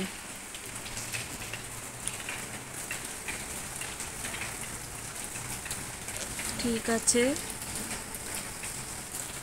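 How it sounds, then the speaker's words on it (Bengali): Rain falls hard in a strong windy storm around midday, a continuous close patter and wash of water with a brief bird call partway through and a short spoken remark. "এখন প্রচুর হাওয়া বইছে আর বৃষ্টি হচ্ছে।"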